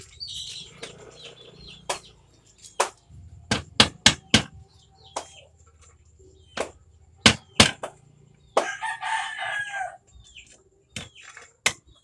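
Material is cut for a chick cage with loud, sharp chopping strikes that come singly and in quick pairs, with irregular pauses between them, while chickens cluck and a fowl calls nearby.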